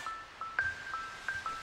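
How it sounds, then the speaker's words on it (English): A dinner bell rings in short, faint, high tinkling strikes, about seven in quick irregular succession, heard on its own with no voices. "Dinner bell!"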